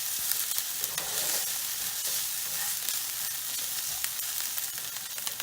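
Chopped vegetables sizzle steadily in a pan for a cheesy pasta dish, a dense continuous hiss of frying with occasional faint scrapes of stirring, close and even throughout.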